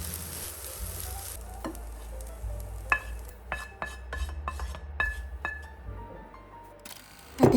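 Rice sizzles steadily in a pan while stir-fried with soy sauce and sesame oil. A run of sharp utensil taps and scrapes against the pan rises over the frying hiss, ending in a louder clatter.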